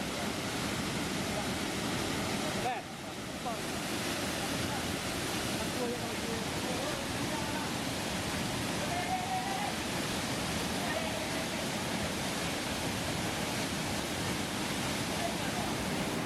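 A waterfall, the third tier of Putri Kembar falls in Indonesia, roars steadily and loudly throughout, a continuous broad rush of falling water with a brief dip early on.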